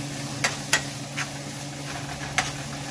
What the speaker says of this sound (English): Now, we're going to get this all stirred up.